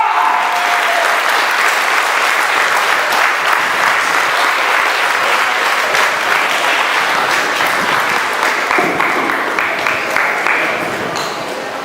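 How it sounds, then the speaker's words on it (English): An audience gives a loud, sustained round of applause for an honoree at a live event, dense and steady throughout and tapering slightly at the end. "give a well-deserved round of applause to Irritated Genie of Soul Fees"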